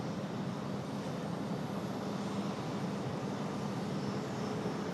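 A Frontier airliner departs at Raleigh-Durham airport, a steady low engine rumble heard from a distance, even in level throughout with no voices.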